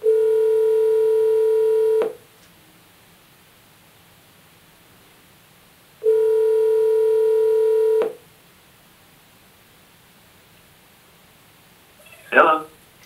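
Telephone line tones during a voice call placed through an assistive control system: two long steady two-second tones separated by quiet hiss, then a brief faint voice at the end.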